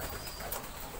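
Endemic pigeons in a pigeon loft give a soft coo under steady, loud background hiss, lasting only a moment.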